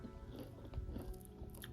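Crispy Japanese Doritos chips crunch in a quick, close bite and chew, faint and brief against a low background hum.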